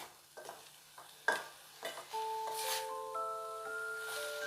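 Onions for vegetable momos frying in a pan and being stirred, with scraping strokes and a low, steady sizzle that builds and holds, close by with no talk.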